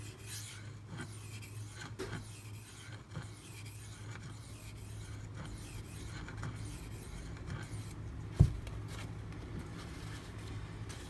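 Spyderco Native 5 knife with a Maxamet blade drawn across a sharpening stone in soft, repeated rasping strokes, with one brief sharp knock near the end.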